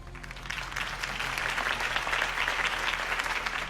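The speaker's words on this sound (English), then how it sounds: "could have heard that applause" A crowd applauds steadily, a dense wash of clapping that stays loud and even throughout.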